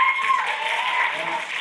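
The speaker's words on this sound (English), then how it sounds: "round of applause." An audience at a realtor success summit gives brief, steady applause, a dense wash of clapping heard alone.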